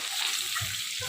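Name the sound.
frying raw banana with mustard seeds, cumin, curry leaves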